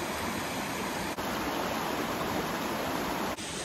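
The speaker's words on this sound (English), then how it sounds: "We already got a beautiful little waterfall to start us off." A small waterfall on a hiking trail near a frozen lake in winter, rushing with a steady, full, close hiss of falling water, uninterrupted and without voices.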